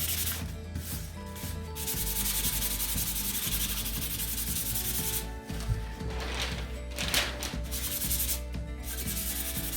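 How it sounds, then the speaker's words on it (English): Fine 400-grit sandpaper rubbed along the grain of a laser-cut wood piece makes steady, close back-and-forth scratchy strokes that continue throughout with no talking. "fine sandpaper, ours are a 400 grit, and you're going to use that to sand in the direction of the grain to smooth that out."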